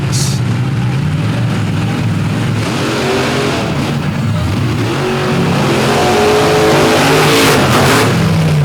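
Two trucks, Virginia Giant, a Hemi-powered Ford, and Avenger 2, race on a track at a night event in Benson, North Carolina, with a continuous loud engine roar and revving that builds across the whole stretch.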